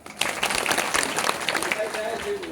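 Audience applause at a devotional kirtan during a golden jubilee celebration, a dense patter of many hands clapping steadily for a couple of seconds, with voices mixed in and a faint sustained tone near the end.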